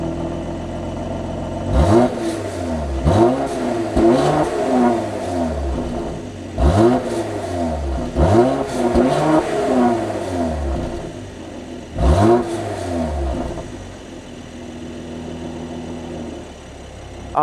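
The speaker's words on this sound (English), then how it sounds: "I'm gonna put my microphone on the exhaust so you guys can hear the revs" With the microphone placed at the exhaust, a 2018 Mercedes-Benz E43 AMG engine idles and repeatedly blips upward in revs, with several sharp rises and falls before settling back to a smooth idle, loud and close.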